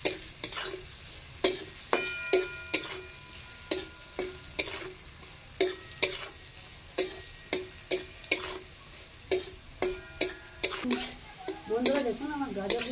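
Carrots frying with salt in a pan for puffed-rice fried rice, with a soft sizzle under a run of sharp, regular scraping clicks of a spatula stirring against the pan, close and fairly quiet.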